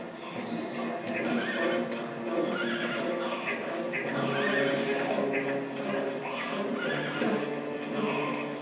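A horse whinnies in The Legend of Zelda: Twilight Princess over a busy, continuous game soundscape with clip-clopping and rushing noise, steady and moderately loud throughout.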